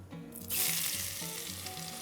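Onions tipped into a pot of lamb frying in oil set off a sudden loud burst of sizzling that keeps crackling steadily, with faint stirring clinks underneath.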